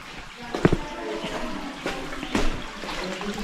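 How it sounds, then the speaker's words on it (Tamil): Water flowing through a rough, muddy cave in Meghalaya, a steady close trickle and splash with a few sharper gurgles, no talking. "இந்த கேவ் தண்ணி ஃப்ளோ ஆகுது"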